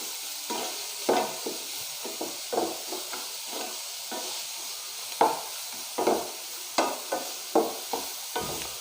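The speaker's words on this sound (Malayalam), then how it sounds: "നമുക്ക് ആദ്യം സവാള ഒന്ന് വാട്ടി കൊടുക്കാം" Onion for tapioca cutlets sautés in a pan, a soft sizzle broken by repeated rhythmic scrapes and stirs of a spatula, close and moderately loud, with no talking.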